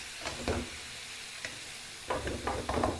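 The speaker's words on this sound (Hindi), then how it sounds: "लहसुन में हम लोग डालेंगे जी चिकन क्यूब्स। इसको करेंगे मिक्स।" Chicken cubes sizzle in a pan with garlic while being stirred, with several scraping stir strokes over a steady frying hiss; no one talks.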